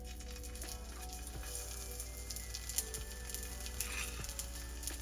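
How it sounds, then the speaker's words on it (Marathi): Soya tikkis sizzle steadily in hot oil in a pan, a dense continuous fry hiss with a few soft clinks as pieces are set in, no voices. "तर आता याच्यात आपण आपल्या ज्या टिक्की बनल्यात त्या एक एक छान सोडून घेऊन फ्राय करूया 5 ते 10 मिनिट"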